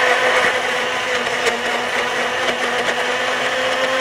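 Electric blender whirring steadily as it purees fruit into juice, a loud continuous motor drone with a grinding texture held throughout, with no talk over it.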